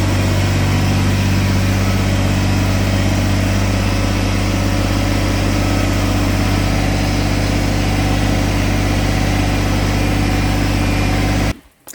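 Small BX compact tractor engine idling steadily, a loud close diesel rumble with constant vibration that cuts off abruptly near the end.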